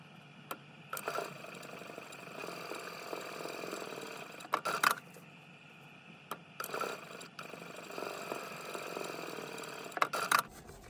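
A domestic sewing machine basting clutch pockets down at a one-eighth inch seam allowance, running as a quiet steady whir with periodic louder clicks and short bursts as the stitching stops and starts.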